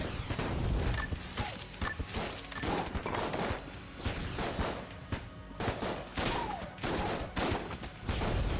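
Gunfire in the roguelike bullet-hell video game Enter the Gungeon pops in rapid, dense volleys of shots with brief pauses, steady and fairly loud, alone without talk.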